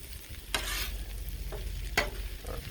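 Jambalaya is mixed with a spatula on a Blackstone griddle: a steady close sizzle with two sharp metal scrapes and a few softer scraping strokes, and no voices.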